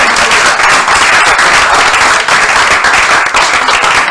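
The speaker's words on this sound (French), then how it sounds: "On peut les applaudir très fort encore." Loud, close applause from a show audience cheering school teams, continuous brisk clapping with slight swells and dips across the whole stretch.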